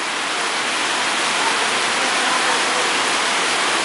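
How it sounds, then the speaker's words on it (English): Heavy rain falling steadily at an outdoor Appaloosa horse show, a dense, even hiss that continues without pause and with no talk. "It is raining today terribly."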